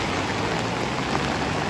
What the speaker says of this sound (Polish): Deszcz strasznie pada, zobaczcie, tu mamy plażę w San Sebastian